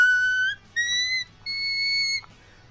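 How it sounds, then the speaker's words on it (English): A singer produces whistle-register tones, three pure, very high sustained notes in short succession, each held about half a second or longer and heard alone. "trying to make the gap between your vocal folds as small as possible to get that whistle tone out"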